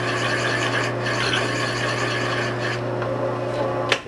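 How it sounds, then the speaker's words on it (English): Drill press boring through 1/4-inch steel plate for an alternator bracket, a steady close grinding rasp over a constant motor hum, ending in a sharp short screech. "Drilling some 1/4-inch steel plate to make an upper alternator bracket."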